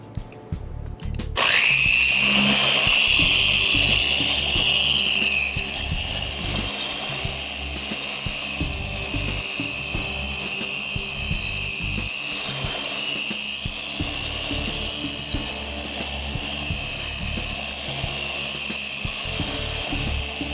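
Steady, continuous abrasive rubbing of fine-grit sandpaper (3000 to 5000 grit) on car paint, with a high, sustained hiss, running close and evenly throughout with no talking.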